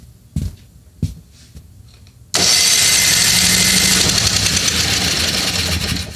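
A Frontier (John Deere) snowblower engine that had suffered water damage, heard after a couple of soft clicks and pulls, catching and then running loud and steady, close by.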